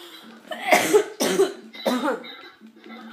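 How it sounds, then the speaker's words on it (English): Three harsh coughs in a row, close by, each a short rough burst separated by brief pauses. "I've been coughing so much lately."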